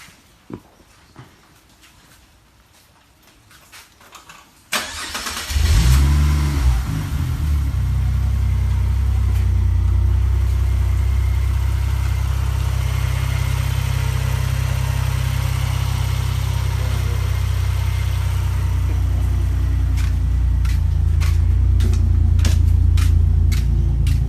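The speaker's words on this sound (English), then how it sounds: "Now I'm going to start the car." A Ford Falcon XR6 Turbo cranks and fires after a few quiet clicks, then settles into a steady, close, loud idle that holds for the rest of the clip with a few light knocks near the end.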